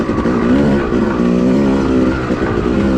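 A Yamaha YZ250 two-stroke dirt bike ridden hard on the woods trails at Manchester OHV, its engine droning loud and steady with constant revving and no pauses.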